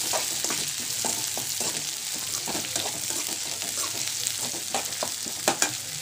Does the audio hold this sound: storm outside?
no